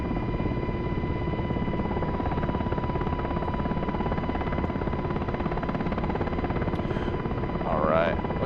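Black Hawk helicopter in DCS flight simulator coming in for a roll-on landing, steady loud rotor and turbine drone with a faint tonal whine throughout and a brief chirp near the end.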